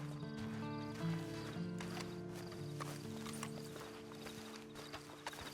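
In the Western video game Red Dead Online, a horse's hooves clip-clop at a steady walking rhythm under a sustained musical score, moderately close, with a brief snort or whinny.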